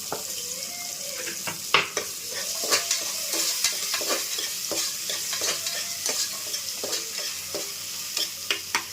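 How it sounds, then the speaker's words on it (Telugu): Tomatoes frying in a pan, with a steady close sizzle and repeated sharp clicks and scrapes of stirring throughout. No one speaks. "టమాటో కొంచెం ఫ్రై అయితే చాలు"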